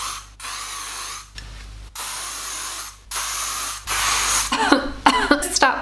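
Dry conditioning de-frizzer spray misted onto dry hair from an aerosol can: four separate hissing bursts of roughly a second each with short gaps, then quick rattling handling clicks near the end, close and loud.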